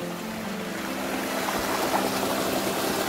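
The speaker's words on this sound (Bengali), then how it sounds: "এটা মনে হয় ওয়াটারফলেরই জল আসছে।" Waterfall water rushing through jungle near Ella in Sri Lanka, a steady close hiss and gush of flowing water with no pauses.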